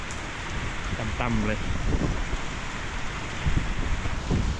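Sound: rain falling

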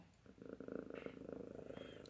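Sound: cat purring

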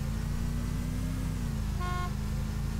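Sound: car horn honking in Arma 2 video game

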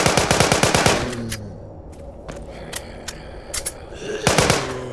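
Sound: gunfire in Walking Zombie 2 video game

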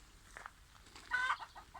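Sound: chicken clucking

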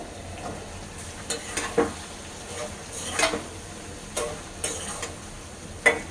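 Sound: duck egg bhuna frying and being stirred in a pan

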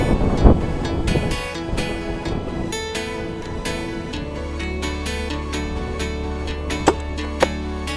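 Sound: strong wind

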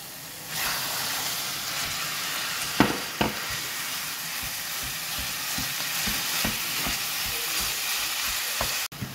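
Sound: courgettes and minced meat frying in pan

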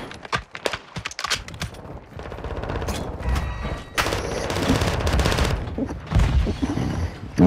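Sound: gunfire in a video game

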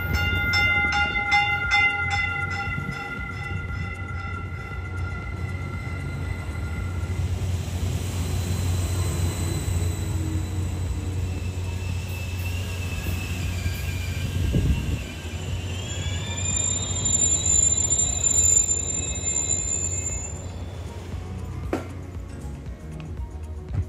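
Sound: electric commuter train departing

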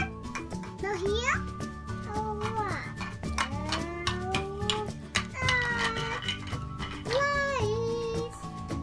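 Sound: cat meowing

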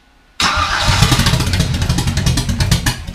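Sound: Chevrolet big block 396/402 V8 engine starting after six years

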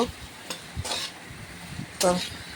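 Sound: potatoes frying and being stirred in a pan

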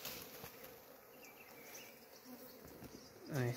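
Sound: bees buzzing around honeycomb in a rock

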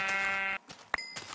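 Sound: sheep bleating in the video game Minecraft

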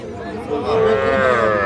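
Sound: cow calf mooing at cattle market

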